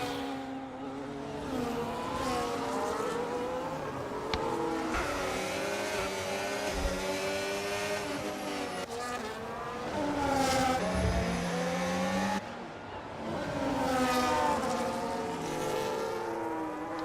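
Formula 1 race cars in a video game at Monaco, engines droning and whining continuously at high revs, rising and falling in pitch as several cars pass in a close train, loud and steady throughout.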